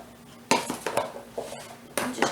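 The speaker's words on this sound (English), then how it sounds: "I'm just trying to stir up all these potatoes and everything." Spoon stirring potatoes in a casserole dish for a cheddar potato, ham and broccoli casserole, several close clinks and scrapes of utensil against the dish in quick irregular strokes.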